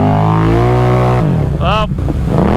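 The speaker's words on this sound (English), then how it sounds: "I'm just gonna give it some full throttle." A Can-Am Renegade G3 ATV engine is held at full throttle off-road, a loud, close, rising roar whose pitch shifts as the load changes, with a brief voice over it.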